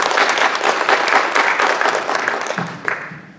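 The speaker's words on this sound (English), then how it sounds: "give yourselves a hand clap for being out here tonight" Audience applause at an evening community gathering, a dense wash of many hands clapping close and loud, fading slightly toward the end with a faint voice near the close.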